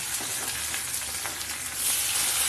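Neem leaves and eggplant tipped into very hot oil, setting off a loud, steady sizzle that swells louder near the end, with no talking.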